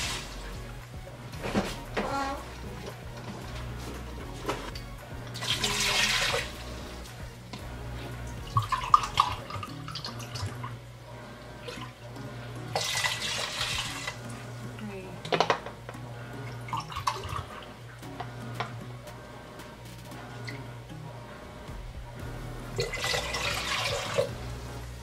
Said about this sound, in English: To add the water.